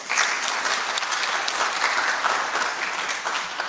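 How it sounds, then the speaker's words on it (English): A church congregation at a Sunday Eucharist service claps to welcome a new bass singer into the choir, a dense, steady round of applause from many hands lasting several seconds, fairly close and full, with no talking over it. "Let's give him a round of applause."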